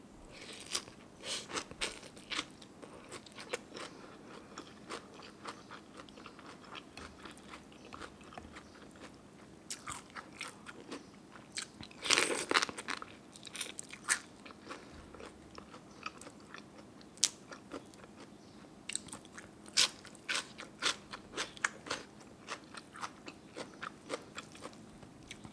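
Someone eats crunchy spicy papaya salad with fresh blue crab, producing close, irregular crisp bites and wet chewing crunches that come in bursts over about twenty-five seconds, with no talk.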